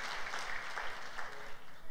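Church congregation applauding during a Sunday service, a steady wash of many hands clapping throughout, moderately loud and unbroken, with no speech over it.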